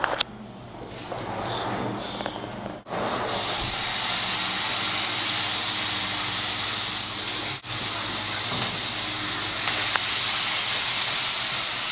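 Steaks hit hot olive oil in a pan with a loud, sustained hiss that swells after a brief scrape and holds steady at close range, dipping only for a moment midway.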